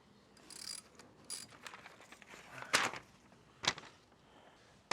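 A 5mm Allen key works the front wheel bolt on a 2004 Honda CRF250X, giving a handful of sharp metallic ticks and clicks spread over a few seconds, close and fairly quiet, with no talk.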